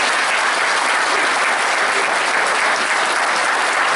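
Sustained, dense applause from an assembly honouring the women present at a meeting about a lifetime pension in Lota, steady and loud throughout with no voices above it.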